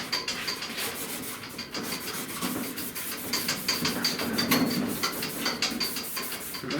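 Rhythmic scuffing of the painted edges and corners of a 1970 Buick Wildcat trunk lid, steady close rasping strokes repeating quickly without pause, and no talking.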